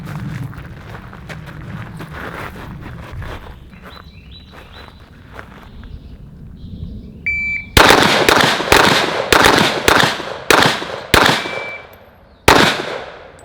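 Rapid Glock pistol shots fired with a CAA Micro Roni stabilizer ring out in a quick string of about ten sharp, loud cracks at a brisk uneven rhythm, following quieter shuffling and handling noise.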